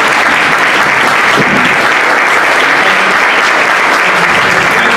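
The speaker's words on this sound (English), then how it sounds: "If you can give a big round of applause to all the candidates participating in the forum." Sustained, dense applause from an audience at a 2018 Democratic mayoral debate forum, honoring the candidates; loud and steady throughout with no break.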